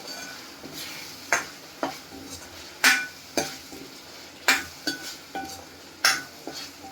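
Steamed green peas go into frying masala for matar paneer, and a spoon clatters against the pan in sharp, irregular knocks over a low sizzle, close and loud with no talking.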